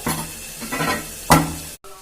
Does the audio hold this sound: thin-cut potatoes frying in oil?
yes